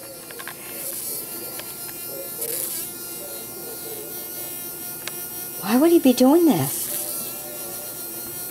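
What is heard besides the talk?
dying housefly buzzing while spinning on its back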